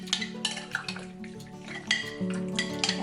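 Shrimp filling with oregano and salt is stirred together in a bowl, close and fairly soft, with utensil clinks and knocks against the bowl and a wet, squelchy mixing sound.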